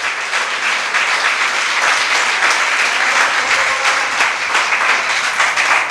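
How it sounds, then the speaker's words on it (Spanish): A church congregation claps in a sustained, evenly loud round of applause from many people, with no talking. "Si van a aplaudir, hágalo bien"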